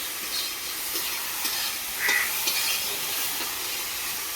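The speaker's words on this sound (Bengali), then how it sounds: "এটা কিন্তু ভাজা হতে থাকবে" Taro stolons seasoned with salt and turmeric fry in a pan with a steady, soft hissing sizzle, while occasional light scraping comes from stirring in a village kitchen.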